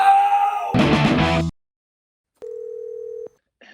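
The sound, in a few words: telephone call system tone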